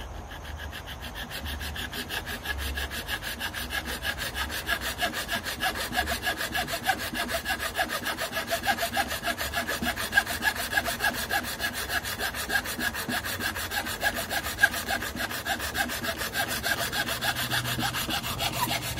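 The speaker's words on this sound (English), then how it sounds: "Hacksaw should do the trick." A hacksaw cuts off the end of a buttplate on a Savage/Fox Model B gun with quick, steady back-and-forth rasping strokes, close and continuous for the whole stretch.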